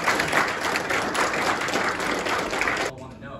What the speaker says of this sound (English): Give them a round of applause and thank all of them for their hard work.